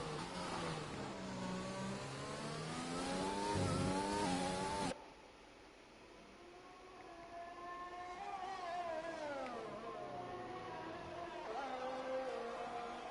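A Racing Point Formula 1 car engine in an F1 esports video game at the Bahrain Grand Prix screams loudly through rising gear pulls, then drops to a softer, farther whine that climbs and falls again.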